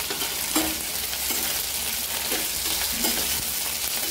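Okra added to garlic and green chili and stirred in a hot pan, a loud steady sizzle broken by a few rhythmic scraping strokes of the spoon against the pan.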